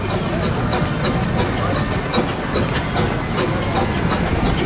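A Foster showman-type steam tractor, formerly used for army haulage, runs at a Lincolnshire vintage steam rally, giving a steady loud mechanical chuffing and rumble with regular rhythmic beats throughout.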